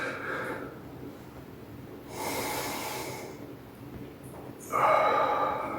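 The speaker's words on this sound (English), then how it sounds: "out through the mouth" Slow, deliberate exhalations blown out through the mouth during a calming breathing exercise, soft airy rushes rising and falling, with a louder, fuller breath out near the end and no talking.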